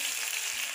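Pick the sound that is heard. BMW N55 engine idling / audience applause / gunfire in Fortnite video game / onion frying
onion frying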